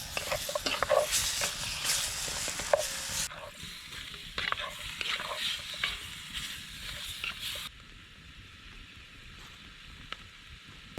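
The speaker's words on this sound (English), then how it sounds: "I'm gonna put in the vegetables. Just give them a bit of a stir around" Meat and vegetables frying over high heat in a pot at a camp cookout, a loud close sizzle with scraping stirs that gradually settles into a quieter, steadier hiss; no voices.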